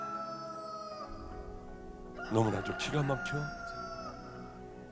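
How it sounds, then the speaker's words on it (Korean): A rooster crows once, loud and drawn out, under a man preaching a Korean church sermon, with sustained background music running throughout. "바로 닭울음 소리가 들려요."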